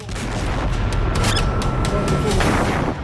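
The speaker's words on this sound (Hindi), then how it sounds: "चंद सेकंड के बाद होता है बड़ा धमाका।" A big explosion booms amid heavy, continuous low rumbling and crackling, like gunfire or blasts on a battlefield during a Hamas attack on Israeli troops and a Merkava tank in Jabalia, loud throughout.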